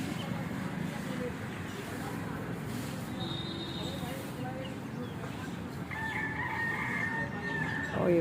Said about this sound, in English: Oh, you can hear the cock crow.